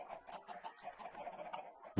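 Chickens clucking in Minecraft, a run of soft, repeated game clucks at close range forming a busy, steady chatter throughout, with a sharp click at the very end.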